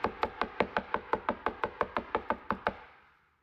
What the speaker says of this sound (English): I'm knocking on the door.